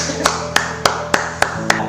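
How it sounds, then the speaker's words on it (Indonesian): Six sharp, evenly spaced hand claps ring out in a steady rhythm at a lively Indonesian talk show, fairly close and crisp with a low hum underneath. "Tepuk tangan"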